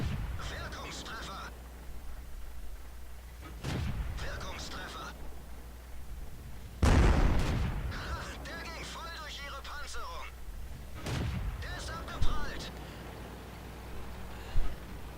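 Tank cannon shots in the World of Tanks video game, a VK 30.02(M) medium tank in battle: several sharp booming blasts spaced a few seconds apart, with someone talking between them.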